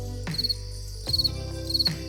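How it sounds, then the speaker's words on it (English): Cricket chirps play as a comedic awkward-silence sound effect over a low steady hum, three short pulsed bursts of chirping evenly spaced across the moment, with no talking. "That's when we play the crickets."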